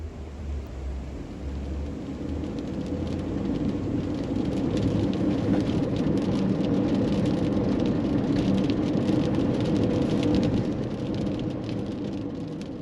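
Steady rain pours down during a severe thunderstorm at a New York state park, a dense continuous hiss with a low rumble underneath, swelling slightly and holding loud throughout.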